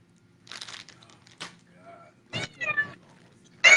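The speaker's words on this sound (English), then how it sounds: "Why do I hear them cats in the background?" Cats meowing in the background, several short meows and chirps scattered among rustling and crinkling noises, fairly faint, with a person speaking quietly at times.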